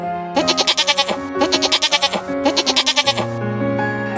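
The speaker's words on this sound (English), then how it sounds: "A goat is a common farm animal." Goats bleat in three quavering bursts, loud and close, with a pause between each cry and a low steady tone running underneath.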